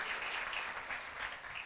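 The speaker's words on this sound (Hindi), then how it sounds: "ज़ोरदार तालियां बजाएं" A church congregation claps during a Sunday worship service, a steady, fairly quiet wash of applause lasting the whole moment with no voices on top.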